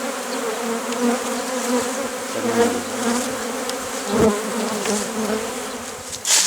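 Honey bees hum steadily around a beehive, a dense, continuous close buzz of many insects with a few louder passes near the listener and no speech.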